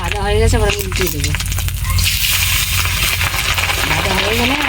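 Fish roe frying in oil after being turned to its other side, a steady close sizzle with scraping and clinking from the pan, while a voice talks over it.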